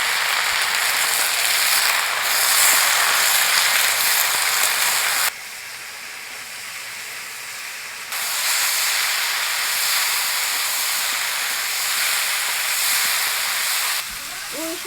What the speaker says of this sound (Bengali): পুঁই শাক দিয়ে পরে 3-4 মিনিট ভাজছি